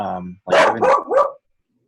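A dog gives three quick, close barks, preceded by a brief voice.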